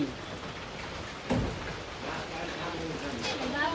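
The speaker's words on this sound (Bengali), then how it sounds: "তো এই যে বৃষ্টি আসছে মনে হয় সারাদিন এরকমই থাকবো" Steady rain falls in a village, a soft continuous hiss of drops with a brief louder burst partway through, close and even throughout with no clear talk over it.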